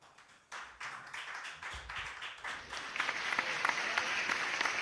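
Audience applause at a live health-organisation event, starting abruptly after a brief lull and swelling steadily into dense, sustained clapping from a sizable crowd, fairly near and growing louder toward the end.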